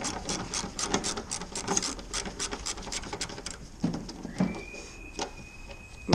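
Repeated ratcheting clicks from a 7 mm socket wrench loosening bolts on the rear bumper of a Fiat 500, a fast, close clatter of short bursts, with a brief thin squeak near the end.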